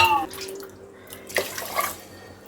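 A short pour of drinking water into washed rice before cooking, three glasses in total, giving brief splashing and trickling bursts over a low steady hum in a kitchen.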